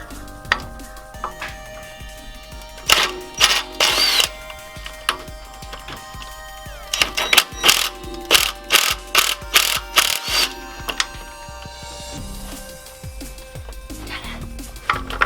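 Bolts coming off a worn transmission mount on a Jeep Wrangler: bursts of clattering metallic ratcheting and tool knocks arrive in irregular clusters, loud and close, with quieter handling noise between them.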